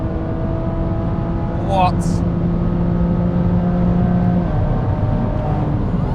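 A 500-horsepower custom-built BMW M2 Competition Turbomeister pulling hard above 6000 RPM on a de-restricted road, heard as a steady in-cabin engine drone with a brief voice partway through.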